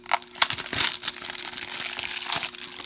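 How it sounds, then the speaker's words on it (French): Plastic shrink-wrap crinkles and tears close up as a Turok 2: Seeds of Evil game case for Nintendo Switch is unwrapped, in a quick burst of irregular crackles and rustles. "On le déballe."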